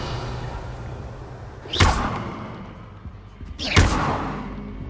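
Two casts of the Bombarda blasting spell in Hogwarts Legacy, each a sharp whooshing blast with a low thump, spaced about two seconds apart over quiet ambience.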